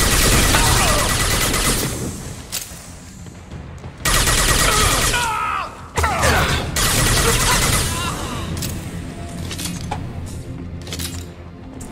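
Automatic SMG fire in Mass Effect 2, sustained bursts of loud rapid shots with brief pauses, crashes and whooshes of combat mixed in, with some talk in the background.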